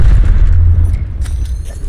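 A loud, close grenade blast in Apex Legends, a heavy low boom right at the start that rumbles and slowly fades over a couple of seconds, with faint game clatter after it.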